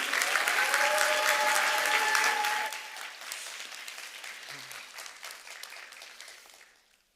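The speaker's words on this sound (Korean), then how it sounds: "우리 뜨거운 박수와 환호로 환영하도록 하겠습니다" A church congregation at a Sunday service breaks into loud, dense applause with a few cheers, then thins out and fades away.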